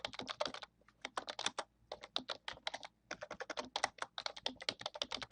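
Steady typing on a computer keyboard while entering a macro description in a document, dense rapid keystrokes in bursts with short pauses, close and clear with no talking.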